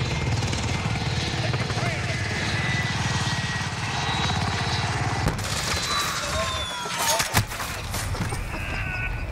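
Call of Duty Modern Warfare chopper gunner helicopter drones overhead with a heavy rotor throb, then the tone shifts amid bursts of gunfire and crackling effects, with voices talking over it.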